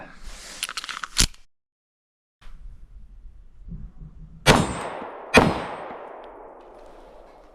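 Two sharp, loud gunshot cracks from a Sig P365XL Spectre Comp pistol firing Hornady Critical Defense Light ammunition, with a third sharp crack near the start, each followed by a ringing decay and low background rumble between shots.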